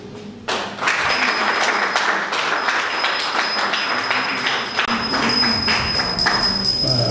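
Applause from a press-conference audience, thin and scattered rather than full, steady for several seconds at moderate level with some thumps and taps mixed in.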